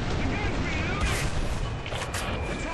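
A bomb blast in the War Thunder combat game, heard as a dense crackling roar of explosion and gunfire with sharp bursts near the middle and end, loud and continuous throughout.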